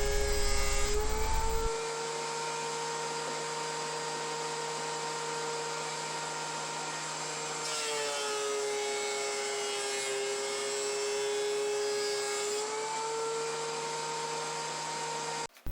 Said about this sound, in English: I planed 2 legs at a time, first on one face, then turning them 90 degrees and planing the adjoining face.